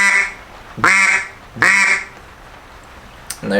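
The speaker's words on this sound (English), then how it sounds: "that's what's going to make the quack" Two loud, close quacks blown on a wooden duck call, each a short nasal blast with a falling tail, spaced under a second apart, followed by a faint click.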